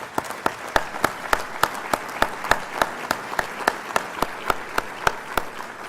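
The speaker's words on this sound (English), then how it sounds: "would you all just give them a big round of applause?" A round of applause at an evening gala, with sharp, evenly spaced claps from a few people standing out clearly over softer background clapping, near and steady throughout.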